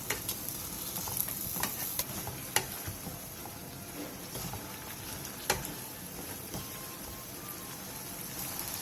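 Stir-frying with anchovy broth, soy sauce and perilla seed powder in a pan, a steady bubbling sizzle with scattered spatula clicks and scrapes, no talk.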